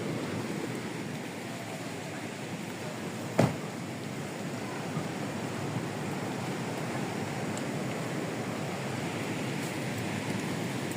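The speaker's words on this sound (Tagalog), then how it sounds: "Ay, nako, ang lakas ng alon." Strong waves roll in at a beach in the Philippines during rough weather. The surf makes a constant, loud, broadband wash with wind, and there is one brief sharp knock.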